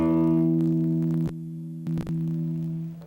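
An electric guitar rings a sustained rock chord, breaks off, then picks up a sliding chord moving from D toward E that rings out alone before cutting off.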